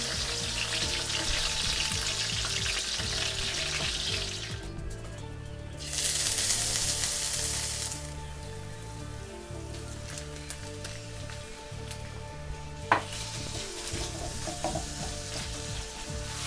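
Pork stir-frying in a pan for a Chinese restaurant-style pork and green beans dish, a steady close sizzle with stirring scrapes throughout, a louder hiss burst midway and one sharp clink near the end.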